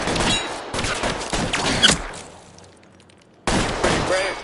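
Gunfire erupts in bursts during a shootout in the video game L.A. Noire, several loud rapid volleys broken by a brief lull before another burst, with faint voices underneath.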